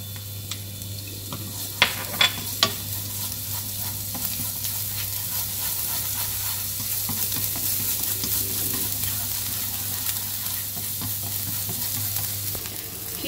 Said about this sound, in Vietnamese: Các bạn sẽ thêm vào đây 2 muỗng dầu ăn. Sau đó cho hành và phi thơm.